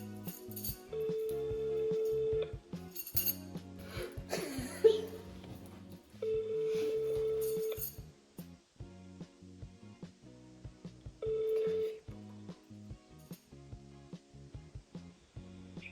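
A phone call rings out on a handset, with repeated steady ringback tones in evenly spaced bursts, and faint voices in between.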